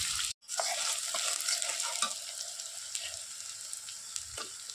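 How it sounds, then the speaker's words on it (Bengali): Garlic paste is frying with browned chopped onions in a pan, a close, continuous sizzle broken by occasional scraping stirs of a spatula, after a brief moment of silence at the start. "এখন দিয়ে দিলাম রসুন বাটা। তো রসুন বাটাটাকেও একটু ভালো করে ভাজবো"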